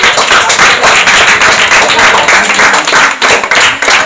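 Dense, loud clapping from a crowd applauding the winning team at a coaching centre cricket match, continuous and close.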